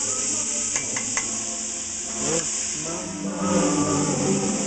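Fat sizzles in a pan for cooking lean grass-fed beef, giving a steady close hiss with a few light scrapes and stirs, while a voice murmurs faintly underneath.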